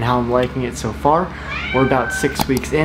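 A pet cat meows in the background while someone speaks continuously in the foreground, its drawn-out cry rising briefly between his words.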